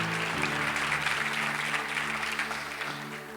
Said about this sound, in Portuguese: dê mais uma salva de palmas ao Senhor Jesus